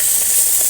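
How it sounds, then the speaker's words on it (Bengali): Prawns frying in mustard oil give off a loud, steady, close sizzle, an even hiss with no talk over it. "চিংড়ি মাছগুলো ভাজা হয়ে গেছে,"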